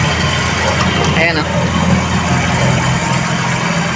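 A Toyota 2E engine idles steadily at around 1,200 RPM, a continuous low hum close by, with someone speaking briefly over it partway through.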